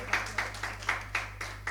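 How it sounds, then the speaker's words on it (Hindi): Audience at a novel launch ceremony clapping for an honoured guest: a short, thin burst of applause with a few distinct, evenly spaced claps standing out over a low hum. "तालियां बजाएं बोहरा साहब के लिए"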